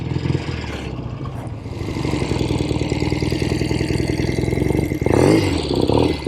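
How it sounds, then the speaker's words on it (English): A 1970 Royal Enfield Interceptor Mark II motorcycle on its original exhaust pipes runs with fresh carburetors, its engine burbling at a fast idle and then revving up into a louder, rougher surge. The sound is close and steady, with no talking. "I can't believe those are original pipes. 1970 Royal Enfield Interceptor Mark II."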